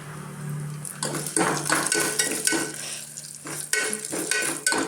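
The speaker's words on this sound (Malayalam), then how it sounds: "അപ്പോൾ നമ്മുടെ ഇതാ ഈ വാറ്റൽ മുളകില്ലേ അങ്ങോട്ട് കൊടുക്കാം" Dried red chillies fry in hot coconut oil in a pan, giving a steady close sizzle with scraping stirs and clinks of a utensil against the pan, with no talking.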